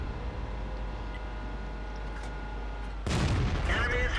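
A tank cannon shot in a tank video game, with a single heavy blast bursting in after a steady low engine rumble, followed by a loud, noisy roar that lingers to the end.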